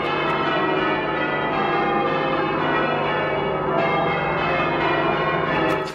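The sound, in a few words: upside-down church bells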